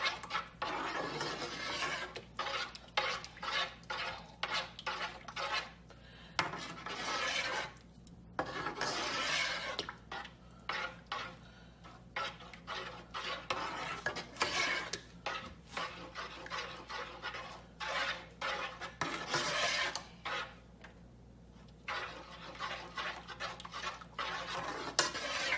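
Spoon stirring mushroom and chicken béchamel sauce in a pan, a steady close scraping and rubbing with brief pauses, continuing for the whole stretch with no voices.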